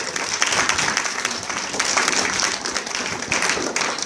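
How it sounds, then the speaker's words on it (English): A crowd gives a full round of applause, dense and steady clapping at close range that continues throughout with no voices over it. "let's give God a bigger round of applause"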